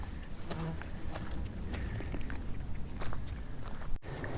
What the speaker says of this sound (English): Lots of bugs around here.